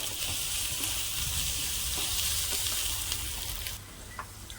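Red chili being stirred into hot frying oil in a pan, with a steady, close sizzle and faint scraping from the stirring. The frying hiss eases slightly near the end. No one speaks.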